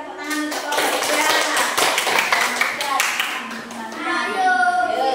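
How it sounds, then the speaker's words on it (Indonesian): A room of children and adults claps for a school coding group in a burst of dense applause that fades out, while voices chatter over and after it. "Ayo sekali lagi berikan tepuk tangan untuk kelompok 3"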